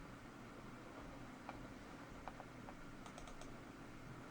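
Faint, sparse keystrokes on a computer keyboard, a few soft clicks and a quick burst near the end over a quiet room hiss.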